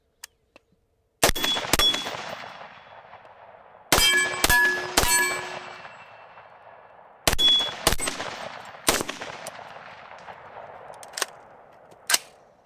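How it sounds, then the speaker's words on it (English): Handgun fitted with a UUQ Eagle C28 red dot sight fired in quick strings outdoors, sharp loud cracks in clusters of two to four with ringing decay between bursts and a few single shots near the end. "let's just do some rapid firing here"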